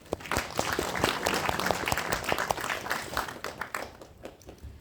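A hall audience claps warmly for several seconds to welcome council members at a Gangnam district development briefing, dense applause that stays full and then thins slightly toward the end.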